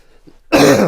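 A single sharp throat-clearing cough from a man in a small home studio, close and loud after a brief quiet moment.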